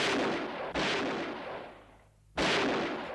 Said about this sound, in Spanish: Las fuerzas de orden público son recibidas a tiros.